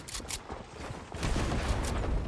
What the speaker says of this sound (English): Shit, we're getting shot at.